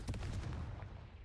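Confringo fire spell blast in Hogwarts Legacy, a short booming burst with a rumbling low end that fades quickly over about a second.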